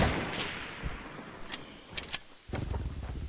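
Sniper rifles fire in a video game: several sharp, separate gunshot cracks at uneven intervals over a rumbling, noisy background.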